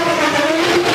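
An IndyCar race car at the Milwaukee oval in 2006 revs hard while doing donuts, a loud, sustained high engine whine that holds steady at close range.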